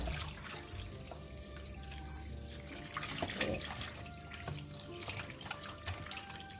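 Tap water runs steadily into a sink with splashing and clinking as raw chicken is rinsed under the stream, close by and fairly quiet.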